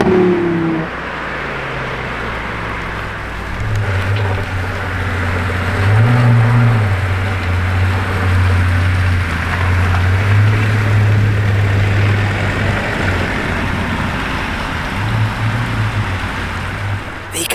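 A Pagani Utopia Roadster supercar drives on a public road, its loud, steady engine drone swelling and holding near the listener for several seconds before easing slightly, with no voices over it.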